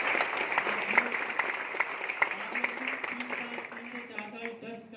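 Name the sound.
audience applause at a meeting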